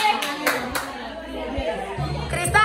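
A few sharp, scattered hand claps ring out at a family gender reveal party, spaced irregularly amid close chatter, with a voice and adults talking throughout.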